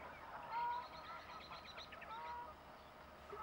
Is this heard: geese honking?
yes